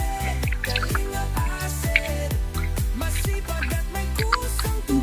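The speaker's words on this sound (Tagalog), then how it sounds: "Naglalagay tayo ng tubig sa bote." Water poured into a bottle in a rapid run of glugging drips and plops, close and loud, with a steady bubbling rhythm throughout.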